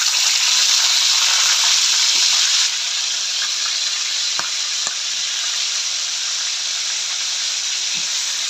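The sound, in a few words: pork chop frying in a pan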